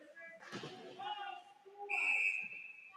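A referee's whistle at a varsity ice hockey game between Manistique and Negaunee, one sharp piercing blast in the second half, preceded by rink noise and voices.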